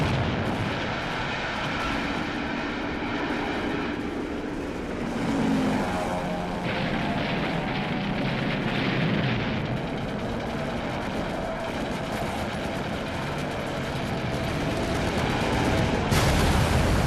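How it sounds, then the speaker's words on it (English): Wartime bombing of American airfield runways by Japanese aircraft in World War II, a dense continuous roar of propeller engines, explosions and gunfire that fills the whole stretch with no pauses. "The Japanese bomb the runways and obliterate the command post."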